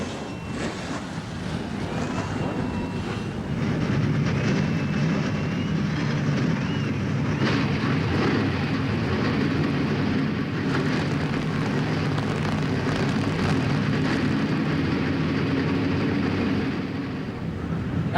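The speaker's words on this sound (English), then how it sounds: "The engines have cranked." Several NASCAR Craftsman Truck Series engines start at the 1997 NAPA 200 in Tucson, Arizona, and build into a dense, continuous roar with broad rumbling noise that holds steady and loud throughout.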